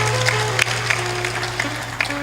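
Scattered audience clapping at a devotional spiritual discourse, a steady low hum beneath with occasional sharper claps standing out; no one speaks.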